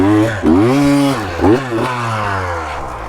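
A two-stroke motorcycle engine revs up and drops back in several rising and falling sweeps, loud and close, with a rough buzzing tone throughout.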